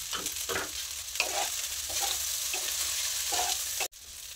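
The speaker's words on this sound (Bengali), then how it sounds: "পাস্তাটা ভাজা হচ্ছে" Pasta frying in a pan sizzles steadily and close, with soft stirring scrapes and small bursts throughout, ending in a brief sharp clatter.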